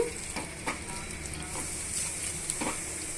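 Tempering for brinjal chutney sizzles steadily in a pan, a close, moderately quiet crackle with a few sharper pops and stirring clatter, no talking.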